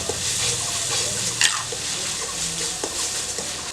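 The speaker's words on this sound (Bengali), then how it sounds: "দিয়ে আমি আরও 2-3 মিনিট এটাকে কষিয়ে নেব।" Onion with ginger-garlic paste sautéing in a pan for a Bengali dodh potol dish, a steady close sizzle with spoon stirring and one sharp scrape of the utensil against the pan.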